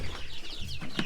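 A few chickens cluck nearby in short, irregular bursts, with some shuffling in the background.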